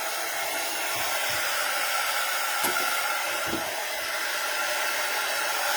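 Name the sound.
heat gun blowing on a card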